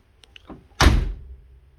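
A 1968 C3 Corvette passenger door shuts with one firm, solid thunk, loud and close, preceded by faint clicks of the latch and followed by a short decaying rumble with no rattle.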